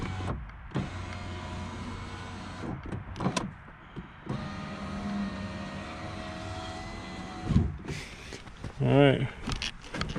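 A newly replaced window regulator motor in a 2007 Honda Accord door whines in several runs, stopping and starting, with a rising, wavering pitch near the end. It is close and moderately loud, with a few knocks between runs.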